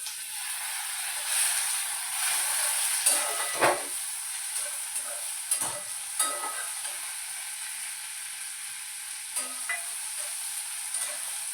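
Urad dal and tomatoes sizzle in a pan for upma, a constant hiss of frying with occasional spoon clinks and stirring knocks scattered over the steady bubbling.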